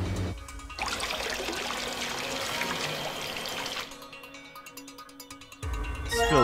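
Water runs and trickles into a container in the video game Virtue's Last Reward, a steady pouring rush for about three seconds that stops abruptly, followed by quieter clicks and another short burst of sound.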